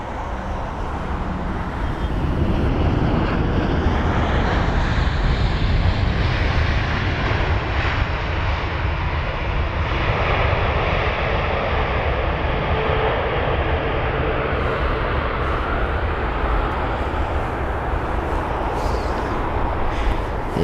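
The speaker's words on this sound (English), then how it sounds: "The 7879 Dreamliner with the reg November 25982, flight number UA262" A United Boeing 787-9 Dreamliner arriving at Heathrow, a broad steady jet engine roar heard from outside, loud and sustained throughout without speech.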